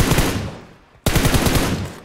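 Rapid automatic gunfire in a battle royale shooter game on the new Livik map: loud, dense bursts that cut off abruptly for a moment, then resume just as hard.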